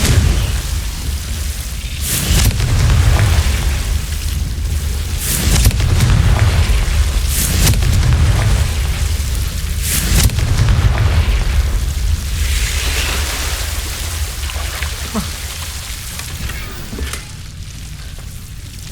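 A Confringo fire spell blasts in Hogwarts Legacy, several loud booming explosions with crackling, hissing bursts repeating every few seconds over a rumbling background.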